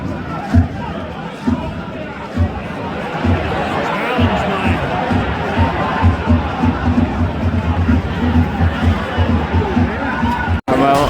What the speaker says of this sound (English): Ibrox crowd understandably a little bit frustrated with what they've watched